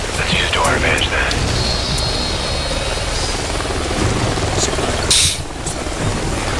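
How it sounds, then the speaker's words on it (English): Helicopter in the Call of Duty: Ghosts game flying up ahead through canyons, a loud steady rotor roar throughout with brief sharp game effects layered over it. "Sounds like a chopper's up ahead of us."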